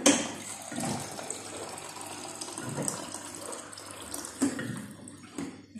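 Water pours and splashes into a glass close by, a continuous running trickle with small bumps and clinks, quiet overall and with no talking.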